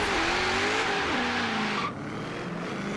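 A Formula Drift Nissan S14 drift car in Forza Horizon 3 roars at high revs with tire squeal, the engine note stepping down through shifts and dropping off near the two-second mark, loud and close, with no talking.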